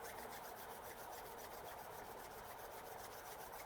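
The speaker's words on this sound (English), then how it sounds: "I just want you to rub your hands" Hands rub briskly together to create warmth, a steady close swishing friction that repeats in a quick even rhythm without pause.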